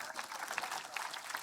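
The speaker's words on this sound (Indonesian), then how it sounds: "Tepuk tangan untuk santri." Audience at an Indonesian religious gathering clapping for santri, a faint, brief patter of scattered claps from a distant crowd.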